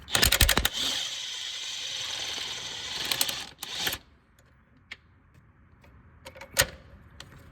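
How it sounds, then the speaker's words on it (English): A ratchet loosens the 15mm engine-side mount nuts on a 2011-19 Ford Explorer 3.5, giving close, loud buzzing clicks in fast bursts, then quieter scattered clicks and taps. "Now we're gonna take off these 4 15mm nuts on the engine side."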